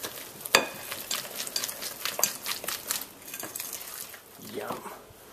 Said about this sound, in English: Now pour in 1 cup of firmly packed brown sugar and whisk this in.